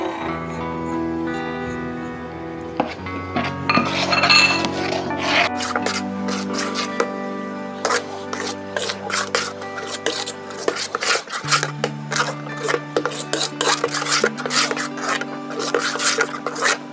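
Spices, chilli and salt being stirred into a pot of haleem, with repeated scraping, clinking and knocking of a spoon against metal throughout, close and busy over a steady low background hum.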